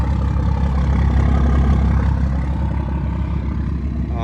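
A Cummins 12-valve diesel engine running just after a cold start, fitted with a 4-inch exhaust and 10-inch tip, a loud, close, steady low rumble with a rough idling clatter.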